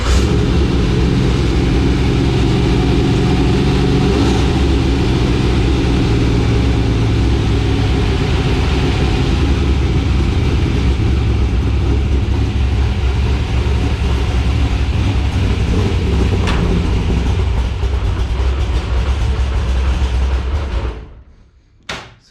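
Steady loud engine rumble of a car idling right after a Holley Sniper EFI install and first fire-up, running continuously close by before cutting off abruptly near the end, no voices.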